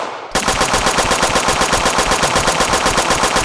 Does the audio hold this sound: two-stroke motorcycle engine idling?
no